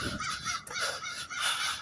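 Crows cawing in a repeated run of harsh, raspy calls that fill the whole stretch, fairly loud and close with no voices over them.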